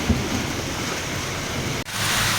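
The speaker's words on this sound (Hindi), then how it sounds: "लगातार बारिश हो रही है" Steady, continuous rain pours down during a thunderstorm, a dense broadband hiss filling the whole stretch with a brief dropout near the end before resuming.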